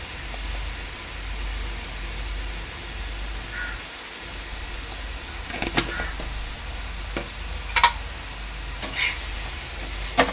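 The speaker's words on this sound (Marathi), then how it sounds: "मसाला चांगला तेल सुटेपर्यंत शिजून घ्यायचा आहे" Turmeric and Agri Koli masala frying in oil in a pan for tuna burji, a quiet, steady sizzle broken by a few soft stirring clinks and scrapes.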